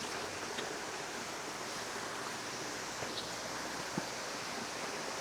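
Balong Santo Falls in Bailen, Cavite produces a constant, even rush of falling water, steady and fairly faint throughout with no voices.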